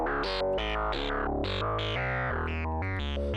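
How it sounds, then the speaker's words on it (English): A buzzy, metallic synthesizer line, square and sine wave oscillators with ring modulation, plays a run of short notes with clangorous, bell-like tones, steady and fairly loud. "What I've got going on here is I've got my ring modulation going on here."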